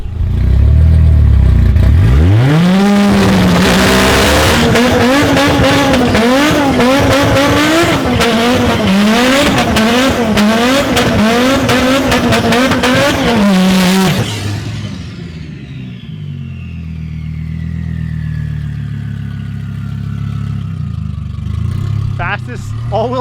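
A 1000+ hp Audi RS3 at a drag strip revs hard, launches and screams through rising and falling gear pulls for about twelve seconds. The engine then cuts, leaving a fading whine and faint background noise.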